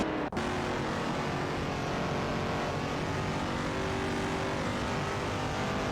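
Race cars in a racing video game, including a Chevrolet Camaro and a Dodge Charger, roar with steady, dense engine noise throughout, with one brief dip near the start.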